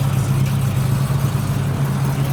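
A raw 6.6-litre V8 in a Pontiac Trans Am runs at a modified supercar rally start line in London, a steady deep engine rumble close by with no talk over it.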